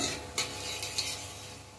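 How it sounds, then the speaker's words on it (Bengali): Black cumin seeds fry in white oil in a wok, giving a short, bright sizzle with a couple of quick stirring scrapes. "কালো জিরেটা একটু ভালো করে ভাজা ভাজা করে নিতে হবে।"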